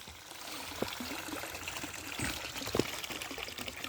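Water from a pumped waterfall trickles steadily into a closed-loop garden pond, a constant close wash of splashing with a few brighter drips standing out.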